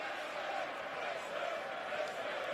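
Large football stadium crowd of about 43,000 at a Barcelona versus Leicester pre-season match, a steady distant roar and murmur held at a constant level throughout.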